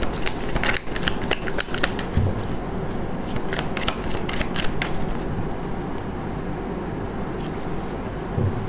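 Tarot cards riffled and shuffled close up, a continuous dense flutter of card edges with sharper slaps and snaps as cards are drawn from the deck.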